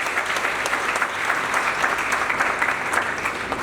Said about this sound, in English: I think this class deserves a round of applause.